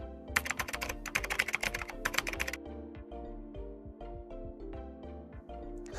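Someone typing Linux commands on a computer keyboard: quick, crisp key clicks in rapid bursts for the first two and a half seconds, then a steady hum with no further keystrokes.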